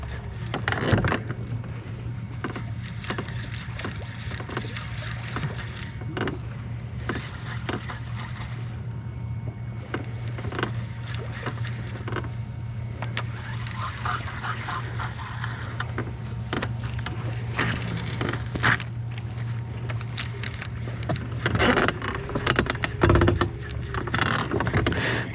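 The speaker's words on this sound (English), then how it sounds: "What speed is this trolling motor at?" Trolling motor on a bass fishing boat on Lake Guntersville runs with a steady low hum throughout, joined by scattered knocks and rattles of gear on the boat, with no talking.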